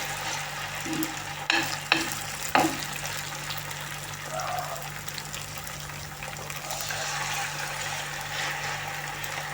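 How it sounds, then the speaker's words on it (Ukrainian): Potato pancakes fry in oil over medium heat with a steady, even sizzle, broken early by a few sharp clinks and scraping stirs. "Жарити будемо на середньому вогні."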